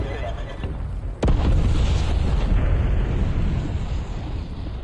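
A grenade goes off in a military shooter game as a sudden loud blast, followed by a sustained roaring rumble and debris noise that stays loud for several seconds.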